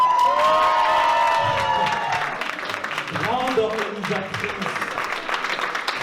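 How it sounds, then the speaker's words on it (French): A festival crowd in a hotel breaks into applause for the organiser with cheers and whoops, as a lively, dense mix of clapping and shouting voices rises over and after a sung or held tone. "Je voudrais un tonnerre d'applaudissements pour Soraya"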